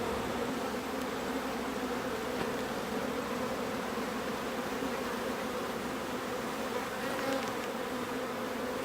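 A dense mass of honey bees in an open hive, a continuous close, loud buzzing drone with no pauses.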